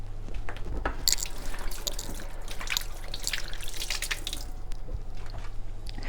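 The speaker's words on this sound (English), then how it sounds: "I'm going to wash my hands" Running tap water splashes as hands are washed at a sink, a soft steady trickle with small irregular splashes and drips, fairly quiet and close.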